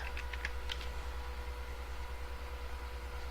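A few quick computer keyboard clicks, including an Enter press, sound early on while entering statistics data, then give way to a steady low electrical hum.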